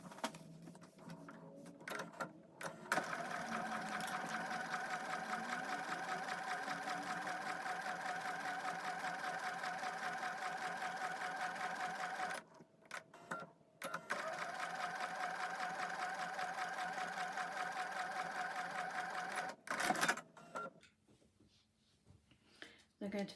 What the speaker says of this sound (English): take it over to the sewing machine.